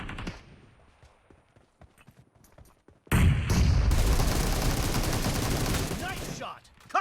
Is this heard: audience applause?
no